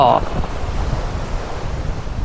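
Strong wind buffets a beach on the coast of Trat province, Thailand, with steady surf washing in beneath a constant broadband roar of wind noise on the microphone.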